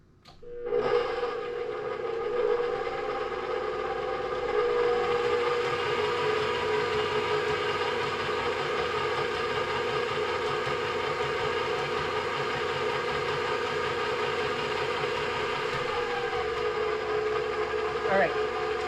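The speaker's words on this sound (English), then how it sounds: "Plug in your mixer." An electric stand mixer motor runs steadily for about eighteen seconds while mixing dinner roll dough, giving a constant, fairly loud whirring hum with a faint whine and no pauses.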